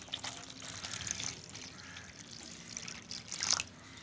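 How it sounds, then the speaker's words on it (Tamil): Faint trickling and splashing of about one litre of water poured into a container for a neem oil mixture, soft and close, in a quiet setting. "இப்போ வந்து தண்ணி ஊற்றிக்கலாம்"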